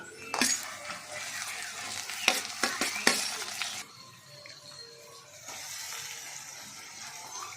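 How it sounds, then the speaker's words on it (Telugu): Sliced onions fry in a pan for uppu chepa vankaya curry, a soft, steady sizzle with a few sharp scrapes and clinks of a stirring spoon early on, then quieter frying. "ఉల్లిపాయ మంచిగా ఫ్రై అవ్వాలి. బాగా ఫ్రై అవ్వాలి."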